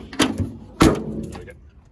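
The door of a 1960 Land Rover Series II 88-inch petrol pickup shuts in two close thuds, a lighter knock followed by a heavier slam, each ringing briefly before a quieter rattle.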